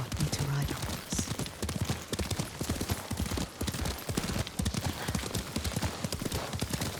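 Rhythmic clip-clop of horse hooves during riding in the video game Ghost of Tsushima, a steady close gallop cadence running throughout beneath occasional voices.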